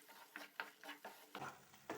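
Spinach gojju ingredients (palak) frying in a pan, heard as soft, close stirring scrapes and light sizzling in short repeated strokes, quiet and without speech.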